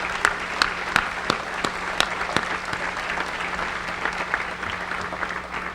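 A commencement crowd at DePauw University applauds with sharp, dense clapping that carries on steadily throughout.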